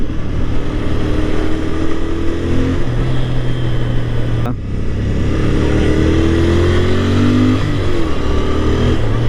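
A 2024 Royal Enfield Interceptor 650 motorcycle engine drones loudly and steadily while riding, rising and dropping in pitch as it shifts gears, with wind rushing throughout.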